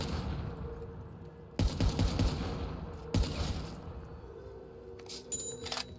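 Sniper rifle fire in a Backrooms lobby video game: two sharp, loud shot bursts about a second and a half apart, each with a brief clattering tail, followed by lighter metallic clicks.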